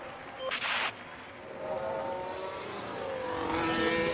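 F1 Manager racing game car leaving the Monaco pits on fresh soft tyres, a steady engine drone with rising whine tones building toward the end, preceded by a brief brighter burst near the start.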